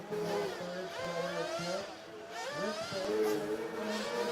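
A car engine at a fuel championship qualifying session revs up in repeated rising sweeps as it drives away, the pitch climbing and falling over a steady background.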